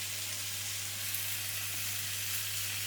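Curry sauce with a teaspoon of mango chutney sizzles steadily in a hot pan, a continuous close, even frying hiss with no talk, under a constant low electrical hum.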